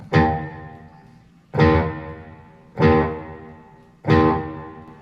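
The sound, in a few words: Firefly strat electric guitar through NUX analog delay, with reverb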